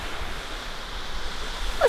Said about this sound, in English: Here we are at another one of these awesome waterfalls